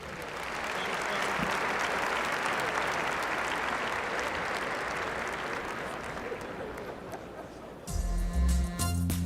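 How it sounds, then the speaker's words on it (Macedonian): Sustained, dense applause from a large audience at a music awards show, loud and steady for about eight seconds before giving way to music at the end. "Да ги поздравиме со аплауз."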